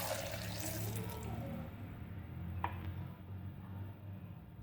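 Water is poured from a glass into a grinder jar holding falsa berries, a soft steady splashing close by with a brief clink partway through.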